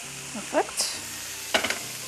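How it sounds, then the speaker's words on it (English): Vegetable turkey stuffing being stirred in a pan: a few quick scraping strokes of a spoon over a gentle sizzle, close and short, with a brief pause between the bursts. "We'll stir until nicely blended."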